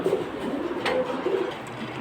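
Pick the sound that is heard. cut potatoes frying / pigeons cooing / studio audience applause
pigeons cooing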